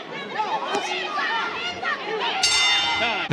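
A boxing ring bell rings to end a round at a super flyweight bout, cutting in sharply near the end over a chattering arena crowd and commentators talking.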